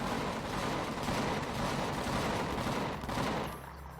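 Turret gunfire in the space survival game Empyrion Galactic Survival: a dense, continuous barrage of rapid shots, loud and close, that cuts off and thins out near the end.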